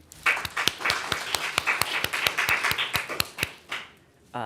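Applause at a family Dharma service, a small group clapping in steady rhythmic claps for a few seconds, fairly close, with no talking.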